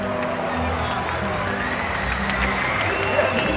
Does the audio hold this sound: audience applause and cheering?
yes